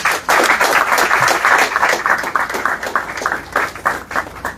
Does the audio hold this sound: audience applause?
yes